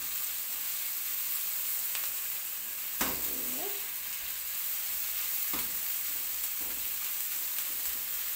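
Garlic and ginger sizzle steadily in a hot pan for meatballs, a close, continuous frying hiss broken by a few sharp scrapes and knocks of a utensil stirring.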